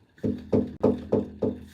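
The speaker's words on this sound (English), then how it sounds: "It sounds like window knocking." Five evenly spaced knocks on a window, close and fairly loud, each a dull hollow thud with a quick decay.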